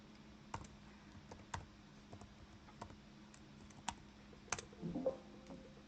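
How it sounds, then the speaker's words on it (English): Someone types a password on a computer keyboard: a quiet, irregular run of separate key clicks, close and faint, with no talking. "Okay, I'm gonna type my password."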